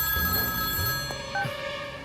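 A telephone bell rings steadily in a quiet room, its bright tone clear and close, with no talk over it.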